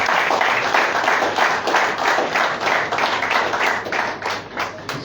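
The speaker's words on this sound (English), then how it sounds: "Let's give a big round of applause for him." An audience at a Rotary Club of Panaji scholarship distribution event applauds steadily, many hands clapping in a dense, sustained wash of sound.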